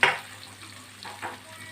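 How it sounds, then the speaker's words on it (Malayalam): Squid, grated coconut and onion frying in a pan, a steady low sizzle with a few soft stirring scrapes, close and moderately loud. "നല്ലപോലെ ഒന്ന് ഫ്രൈ ആവട്ടെ"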